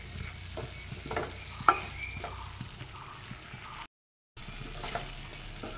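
A spiny gourd is stirred in a sizzling pan with soft scrapes and clinks of the spoon over a low frying hiss, close and gentle, with a short silent break partway through.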